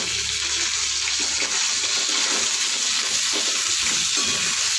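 Ginger paste fries in hot oil in a pan for a bitter gourd curry, giving a loud, continuous sizzle with a few soft stirring scrapes and no voices.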